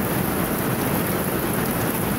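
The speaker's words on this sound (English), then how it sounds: "it looks like the hail's over, but it's still raining really hard," Heavy rain pours down steadily just after a hailstorm, a loud, dense, continuous hiss of drops drumming on surfaces with no pauses and no voices.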